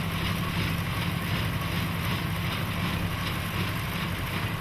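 An old 1950s tractor engine drives a straw baler at a steam threshing demonstration, a loud, continuous broadband drone with a low rumble and no clear breaks, heard close and alone.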